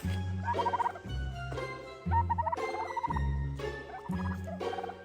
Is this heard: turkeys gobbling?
yes